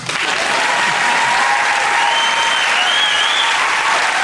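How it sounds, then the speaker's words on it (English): Loud, dense applause from a television panel show's studio audience fills the whole stretch at an even level, with a few whoops or cheers rising through it and no talk. "Now clap or leave."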